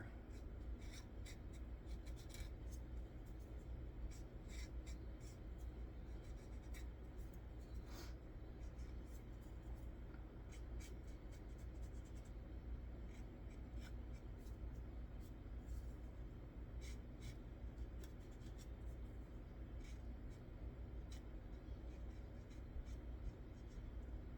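A brown colored pencil rubs across the white edge of a sheet of paper, giving steady, quiet scratchy strokes with faint rhythmic scraping throughout.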